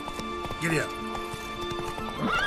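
Horse in The Witcher 3 gives a short whinny over steady clip-clop hoofbeats, with a voice speaking over the riding.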